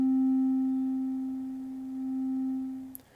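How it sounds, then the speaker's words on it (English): A pure, steady sine tone from a VCV Rack software synthesizer holds one unchanging pitch, loud and alone, before cutting off abruptly near the end. "We can hear what this sine wave sounds like. Right, very simple sound. It's just a sine wave."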